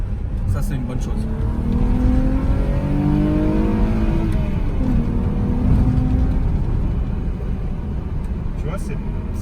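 A VR6 car engine revving and climbing through the revs, heard continuously from inside the cabin with road and tyre noise beneath; a steady, loud drone with rising engine tones throughout.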